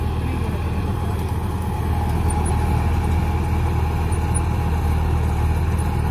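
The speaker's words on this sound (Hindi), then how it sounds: "लगभग 4 इंच की जुताई करके चल रहा है ट्रैक्टर" A John Deere 5050E tractor pulling a Lendforce rotavator, tilling soil about four inches deep, gives a steady, close diesel engine drone mixed with continuous churning from the rotavator, with no voices.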